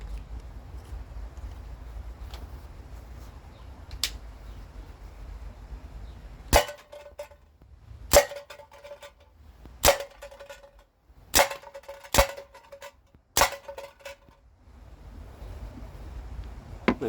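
Rubberized steel balls strike a thick baked-bean tin can outdoors, six sharp metallic cracks spaced about one to two seconds apart, each ringing briefly over a quiet background.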